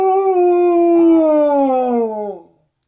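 A human voice imitates a wolf howl by blowing into cupped hands, one long sustained loud tone sliding slowly downward and fading out near the end.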